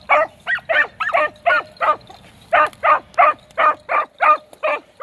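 A young hunting dog gives a rapid series of sharp, squeaky barks, about a dozen in quick rhythm with a short pause midway, loud and close.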